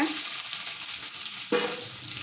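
Onions sizzle and crackle steadily in hot oil while making an okra and egg stir-fry, with a brief burst of stirring near the end.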